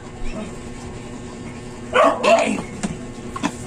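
A dog lets out a short burst of two or three barks at moderate distance during an electric fan repair, with faint background noise before and after.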